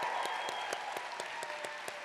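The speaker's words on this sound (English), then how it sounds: "Can I get a round of rowdy applause for our learners?" Audience applause at a university spring convocation ceremony, dense steady clapping from a crowd of many hands, sustained and even throughout at moderate volume.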